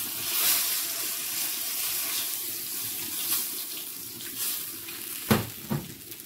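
Fish fries in hot oil with a steady close sizzle and crackle, broken near the end by a few louder spits and pops as more pieces drop in, with no talking.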